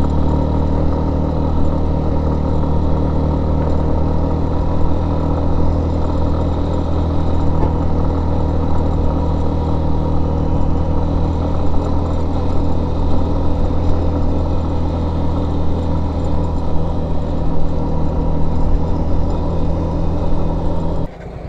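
A motorcycle rides over a very bad road around Alikadam in Bandarban with the throttle held open. A loud, continuous engine drone with rattling clatter holds steady throughout, with no talking.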